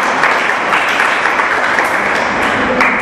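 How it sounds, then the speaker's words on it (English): Loud, steady applause for a guest actress on a radio quiz show, filling the whole span without a break and with no talk over it. "A big round of applause for her"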